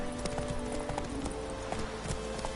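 A horse's hooves clip-clop in a video game, a quick, even run of hoofbeats over a sustained humming background tone.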